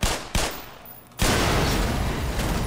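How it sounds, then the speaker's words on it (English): Heavy gunfire shooting down turrets in the video game Black Mesa: a loud burst, a brief lull, then sustained dense firing and blasts that continue to the end. "Now we're gonna blow these turrets to hell."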